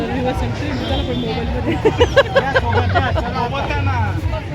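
A busy crowd mills around a waterfall tourist spot near Nashik, with constant overlapping chatter and voices close by, a few louder calls rising above the general hubbub.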